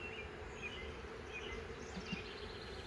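Honey bees buzz steadily at an open hive while frames are moved into it, a soft, continuous droning hum that stays close and even throughout, with no talk.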